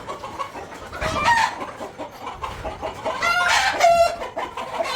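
Chickens clucking close by, with a few louder squawking, crowing-like calls rising above a busy, continuous flock of clucks.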